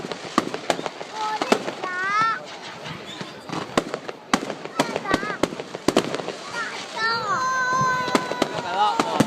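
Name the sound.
fireworks at bonfire night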